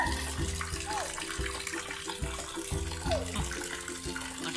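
Plastic toy rings are washed in running water, with continuous splashing and sloshing up close and rhythmic plastic knocks against a container; a voice talks faintly beneath.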